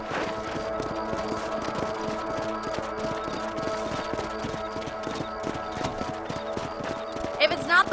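Steady rhythmic clip-clop of a horse's hooves at a run in Red Dead Redemption on a ranch, close and continuous throughout, with people talking over the hoofbeats and music.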